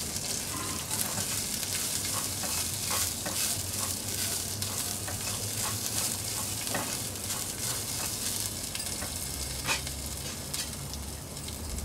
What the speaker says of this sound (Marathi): थोडेसे तेलात परतून घेऊया।